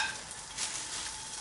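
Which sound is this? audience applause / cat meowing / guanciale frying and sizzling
guanciale frying and sizzling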